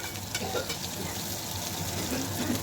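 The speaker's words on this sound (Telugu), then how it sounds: "జీలకర్ర వేసుకోవాలి అలాగే ఉల్లిపాయ ముక్కలు కూడా వేసుకొని ఫ్రై చేసుకోవాలన్నమాట" Cumin seeds and chopped onion pieces fry in a pan, giving a steady, fairly soft sizzle that holds evenly throughout.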